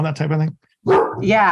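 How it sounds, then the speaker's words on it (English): A pet dog in a home in Dallas, Texas gives a short burst of barks at close range, the yaps tangled up with someone talking over them before and after. "sorry about my dog just there"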